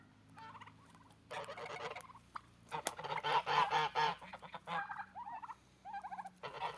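A flock of geese and turkeys honks and gobbles in bursts, calling over each other at close range at a neighboring country cottage.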